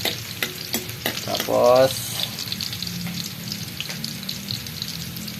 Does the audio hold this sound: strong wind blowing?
no